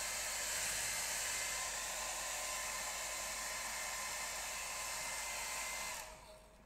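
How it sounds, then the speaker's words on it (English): A hair dryer blows steadily over a gouache painting on coloured paper, a loud continuous whooshing whine that holds evenly before cutting off abruptly near the end. "I'm just going to get the hairdryer on this."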